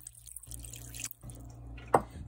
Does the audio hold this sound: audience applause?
no